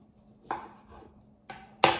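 A knife chops through a mirliton (chayote) on a board, four crisp, separate cuts spaced unevenly, close and fairly loud, the last the sharpest.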